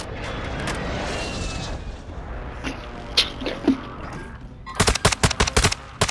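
Gunfire in an online shooter game: a rumble of distant shots, a few heavier single reports, then a close burst of rapid automatic fire near the end.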